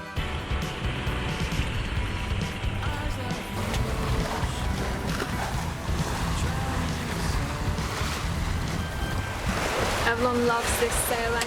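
Wind and ocean surf rushing around a sailboat on a beam reach in roughly 12 to 15 knots of breeze with following seas, a steady dense wash of water and wind noise throughout with no speech.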